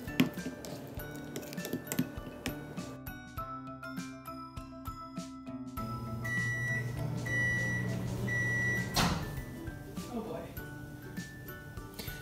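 A steady microwave hum runs for several seconds with a low drone, surrounded by clinks, beeps and people talking nearby, while eggs cook in plastic microwave cookware.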